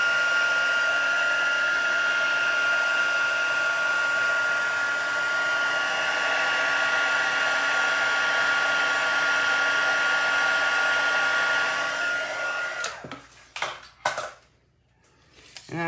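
A heat tool blows hot air over embossing powder on a handmade card, a loud, steady whooshing roar that cuts off near the end, followed by a few light clicks and handling sounds.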